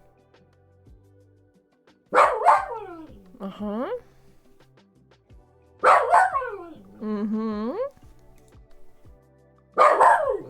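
Dog barking and yowling indoors in three loud bursts, each a quick double bark trailing into a drawn-out whining howl, quiet gaps between, with a person murmuring brief acknowledgements.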